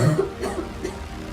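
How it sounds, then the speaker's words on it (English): Coughing from a sick person: a short, close burst of harsh coughs, loud at first and then trailing off into rough breathy noise. "I can't stop coughing."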